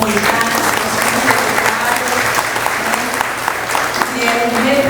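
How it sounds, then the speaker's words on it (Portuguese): Crowd applause at a Catholic church festival honouring Nossa Senhora da Paz, steady dense clapping throughout with a voice speaking over it. "Queremos uma salva de palmas para essas comunidades"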